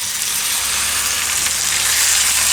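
Yogurt hits a hot pan of spiced aloo baigan paleeta curry and sizzles loudly, a steady, dense hiss close by with no talking.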